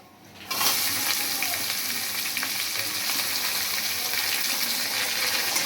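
Chopped onion hits hot oil already seasoned with bay leaf, cumin and whole garam masala, bursting into a loud, steady sizzle after a brief quiet start and frying on continuously, close by.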